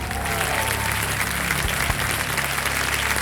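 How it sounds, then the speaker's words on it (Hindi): Studio audience on the Indian game show Kaun Banega Crorepati gives a burst of loud, steady applause that fills the room without a break. "तालियां बज जाए"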